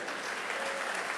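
A church congregation claps in dense, steady applause, a continuous wash of many hands held at an even level for the whole moment.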